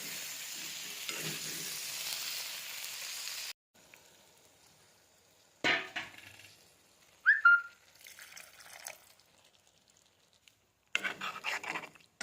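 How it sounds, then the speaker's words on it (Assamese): Diced potatoes frying in a pan during home cooking, a soft sizzle with scraping stir sounds in short bursts broken by quiet gaps. "এতিয়া অকণমান সময় আলুখিনিও ভাজি ল'ম লগতে।"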